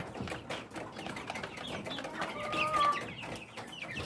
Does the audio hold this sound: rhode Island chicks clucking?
yes